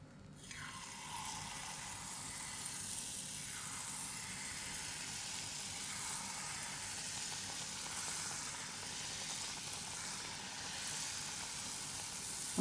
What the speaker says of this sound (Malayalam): ഇനി നമുക്കിത് മീഡിയം ഫ്ലെയിമിലിട്ട് ചൂടായ എണ്ണയിൽ പൊരിച്ചെടുക്കാം.